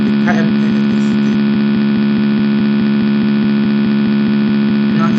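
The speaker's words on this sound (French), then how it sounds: "Le moteur marche dans le sens direct parce que KM1 est excité." An electric motor runs forward under contactor control in a direction-reversal wiring setup, giving a loud, steady electrical hum throughout, with a couple of faint clicks near the start and end.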